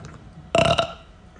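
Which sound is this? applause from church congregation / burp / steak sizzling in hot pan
burp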